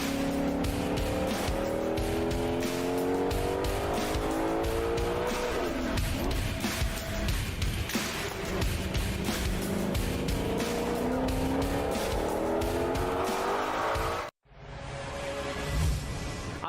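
A Formula Drift pro drift car at a competition, engine screaming and shifting while its tires squeal continuously for about fourteen seconds, loud and close, before a brief cut to a quieter tail of engine noise.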